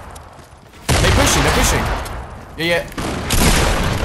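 Shotgun fire in the battle royale video game Fortnite, with a loud burst of blasts sounding throughout as players talk over the gunfire.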